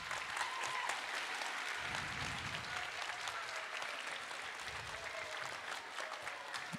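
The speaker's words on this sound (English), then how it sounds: "If you would give them a round of applause" Audience at an elementary school end-of-year awards ceremony applauds steadily for several seconds, a dense sustained patter of clapping with faint crowd murmur and no speech.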